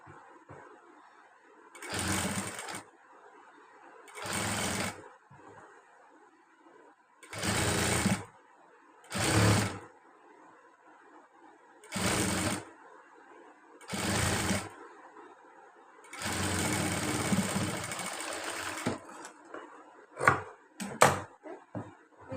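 Sewing machine stitching piping onto the right side of a fabric piece during tailoring, running in eight loud bursts of steady mechanical whirring separated by short pauses, the last few runs brief and choppy.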